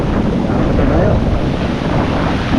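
Strong Typhoon Bilita winds buffeting the microphone by the sea near damaged houses, with surging waves beneath: a loud, continuous roar without breaks.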